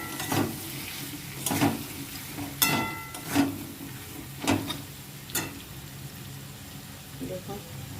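Sauce is stirred into food cooking in a pan, with a soft sizzle beneath a series of spaced clinks and scrapes of a spoon against the pan.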